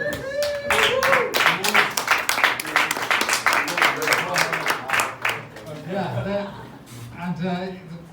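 Dense clapping from a comedy show audience fills the space in a sustained burst, thinning out toward the end as a voice speaks over it.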